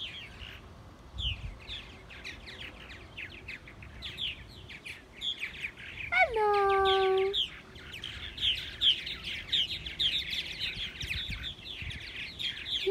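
A colony of purple martins chirps and warbles continuously close by, a dense chatter of bright calls in the open air, while a person greets them briefly in the middle.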